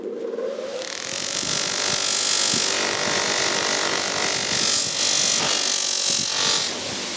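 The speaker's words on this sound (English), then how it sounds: "So we're going to apply the white putty now on the soft wheel." Soft buffing wheel on a ToolMania 250 mm bench polisher running with white polishing compound, a steady whirring spin with scraping friction as the workpiece presses against it, close and continuous throughout.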